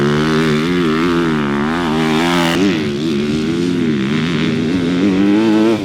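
A 2026 Honda CRF250R 250cc motocross bike screams loud and close, its engine pitch rising and falling through shifts and throttle changes, with a brief dip and recovery midway.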